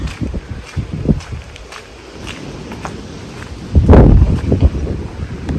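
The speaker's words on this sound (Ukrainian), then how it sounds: "Оце погодка такий вітер, що я не знаю, як ураган просто." Strong gusty, hurricane-like wind buffets the microphone in rough bursts, with a louder blast near the end and faint rustling and footsteps underneath.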